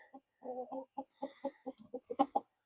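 A lone chicken clucks in a rapid series of short, close calls, with excited guinea fowl kept nearby in the dark on a small farm.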